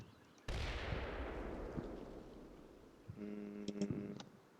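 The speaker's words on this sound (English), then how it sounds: "Now, there was an explosion, so let's back up and try to figure out where the explosion actually came from." A sudden explosion in the tank game Combat Mission Red Thunder: one sharp blast followed by a decaying rumble, then faint distant pops and a brief tonal chatter near the end, with no talking.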